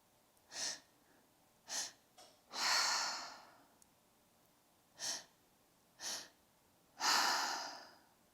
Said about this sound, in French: Continue à respirer.